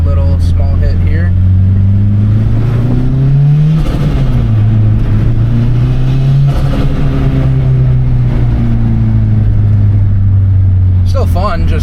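Turbocharged Honda Civic engine revving hard during a short pull with a 5,000 RPM redline, a loud steady drone that climbs, dips and climbs again before easing off, with talk over it.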